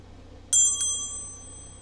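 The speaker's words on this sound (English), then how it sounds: "I will ring the bell to let Spirit know we're ready to begin." A small hand bell is rung during a tarot reading session, two quick bright strikes whose clear metallic tone rings on and slowly fades in a quiet room.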